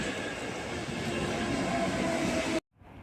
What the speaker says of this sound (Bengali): এই যে লোকাল ট্রেন চলে এসছে